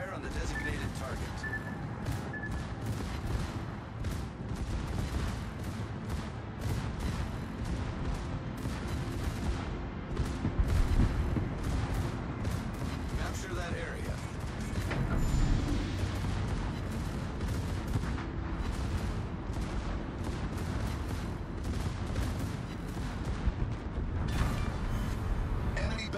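Naval artillery in the World of Warships naval combat game, fired from the German battleship Schlieffen: dense, continuous volleys of booming gunfire and explosions for the whole stretch, with voices heard now and then over the barrage.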